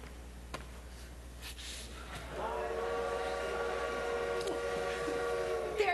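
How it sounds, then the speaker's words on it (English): A train pulls into a station with a long, steady whistle that rises over a rumbling background and holds for several seconds, fairly loud and unaccompanied by speech. "There's your train."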